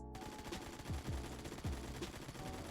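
A stock AKM rifle fires in the Phantom Forces shooting game, a quick series of rapid shots in close succession under a steady game background, no talking.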